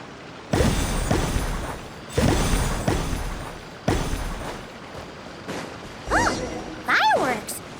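Fireworks go off in Genshin Impact: three loud booming bursts spaced a second or two apart, followed by quieter whistling streaks that rise and fall.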